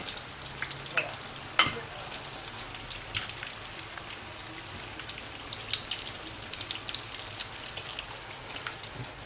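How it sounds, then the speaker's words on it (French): Honey syrup with lemon and orange reduces on the stove over high heat, giving a steady, fairly faint bubbling crackle with scattered pops throughout. "Et là, c'est le miel qui réduit."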